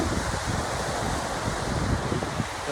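Blue river water flowing through Glen Etive in the Scottish Highlands, a steady broadband rush with outdoor wind buffeting the microphone, continuous and fairly loud with no talking.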